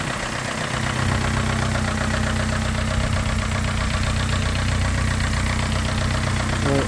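A Nissan Silvia S15 Spec S engine idles steadily, with a loud, even mechanical hum and a faint ticking knock running throughout.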